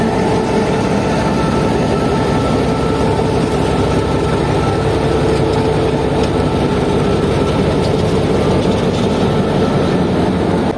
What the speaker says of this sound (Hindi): ये ट्रेन ने डिपार्ट कर लिया है और अब हमें भी बोर्ड होना है